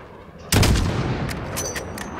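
Heavy gunfire in the Call of Duty Modern Warfare campaign mission The Gas, a sudden loud burst of shots that keeps up as dense rattling with scattered echoing cracks, up close, no speech.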